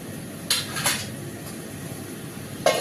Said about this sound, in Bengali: বেগুনগুলো দিয়ে আর একটু নাড়িয়ে নেবো, একটু মাখা মাখা করে নেবো